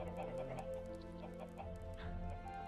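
Chickens cluck softly in the Minecraft video game, a faint, quiet pattern of short clucks over a low, steady hum with no talking.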